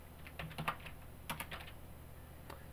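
Several quick keystrokes on a computer keyboard enter a terminal command while installing MySQL on openSUSE Leap 42.1. The keystrokes come as short scattered clusters, close and fairly quiet, with no voices.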